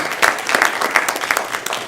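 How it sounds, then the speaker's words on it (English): An audience applauds a panel at a Board of Health meeting on the risks of Juuling and vaping, a modest spread of clapping hands with a few sharper claps standing out, fairly close, without talk. "I think they deserve a round of applause"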